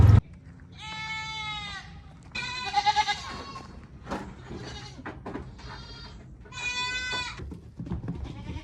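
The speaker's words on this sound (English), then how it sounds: "Let's go check in on the goats." Goats bleat repeatedly in a farm pen at night, several loud, close, wavering calls overlapping one another against a low rumble of background noise.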